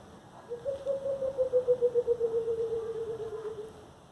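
A coucal, or kukul, calling in a garden in N'djamena: a soft hooting run of rapid, evenly pulsed notes lasting about three seconds, slightly descending, fairly distant over a quiet outdoor hiss with no talk.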